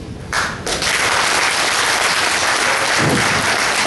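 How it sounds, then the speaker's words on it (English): Loud, dense applause from a forum audience at a Rotary Manila gathering, swelling in after a brief quieter start and holding steady as a continuous wash of many hands. "we do not have to clap our hands"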